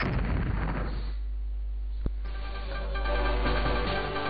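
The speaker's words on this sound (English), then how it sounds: "Explosion around!" Explosions from the Godzilla Domination video game rumble through as a loud, continuous low roar, with one sharp burst standing out midway.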